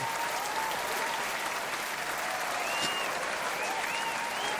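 An applause button sound effect plays, dense steady crowd clapping and cheering that holds at an even moderate level without breaks, slightly distant and canned in character.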